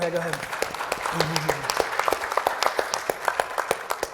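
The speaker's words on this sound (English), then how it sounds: "And can we clap for Reese?" An audience at a youth program event applauds, starting under a brief voice and settling into steady, close, moderately loud clapping that continues to the end.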